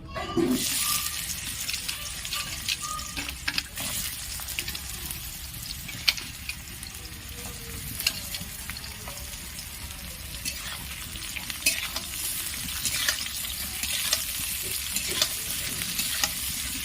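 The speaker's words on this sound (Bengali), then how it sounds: "এবার এখানে নুন হলুদ মাখিয়ে রাখা পটলটা আমি ভেজে নেব।" Pointed gourd coated in salt and turmeric sizzles steadily in hot oil, a continuous bright frying hiss with occasional stirring scrapes and clicks throughout, close and fairly loud.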